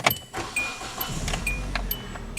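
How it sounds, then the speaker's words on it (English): A car engine turns over and catches, settling into a low steady rumble, with a few light clicks and rattles above it. "then start the vehicle"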